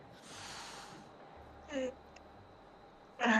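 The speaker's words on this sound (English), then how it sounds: "I wish the cats wouldn't hiss" Cats in a video game hiss as breathy noise bursts, one longer hiss first, then two short, sharper hisses later. The sounds are moderately loud against a quiet game background.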